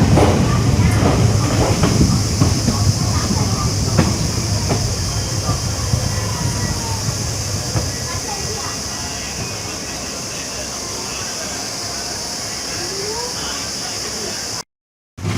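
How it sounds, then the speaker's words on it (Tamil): A WDM diesel-hauled express train pulls out of a station, its rumble and rail clatter strong at first and easing into a steady rolling hiss and drone, heard up close from aboard. "கீழாலிகே ரயில்வே ஸ்டேஷன்லேருந்து கிளம்பியாச்சுங்க"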